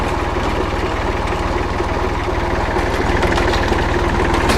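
A tractor engine idles or runs steadily during field-edge mowing, giving a loud, continuous low rumble with an even, throbbing vibration throughout.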